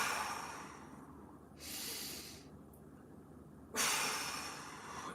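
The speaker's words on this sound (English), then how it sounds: "Breathe into that." Deep breathing during a stretching exercise: two long, hissing breaths a couple of seconds apart, close and fairly soft, with no talking.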